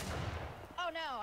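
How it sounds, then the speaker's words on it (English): Gunfire in the Roblox video game: a sharp burst fades out, followed by a short stretch of voice. "They're all shooting at you."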